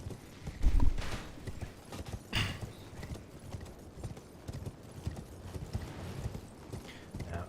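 In Elden Ring on the Altus Plateau, a horse's hooves drum in a quick clip-clop gallop at a sprint. Heavier thuds come near the start and again partway through, and faint game ambience sits underneath.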